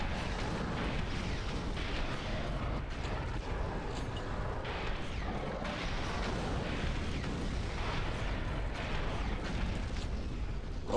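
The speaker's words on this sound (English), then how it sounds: "because we're just spamming rockets at this guy." Rockets fired over and over in Doom 3: Resurrection of Evil, a steady barrage of booming launches and explosions that blend into a continuous, dense roar lasting throughout, with no talk over it.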